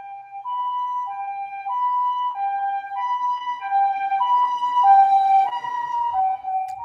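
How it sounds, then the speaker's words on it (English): An ambulance siren passes by, a steady two-tone wail alternating evenly and continuously, fairly loud and clear with no talk over it. "Hold on, there's an ambulance passing by."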